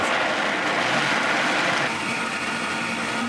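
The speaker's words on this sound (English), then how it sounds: "This is a high-powered blender, it's a Vitamix, so it has no problems with these" A Vitamix high-powered blender whirs loudly and steadily as it purées soaked black beans with water, a dense unbroken roar throughout with no talking.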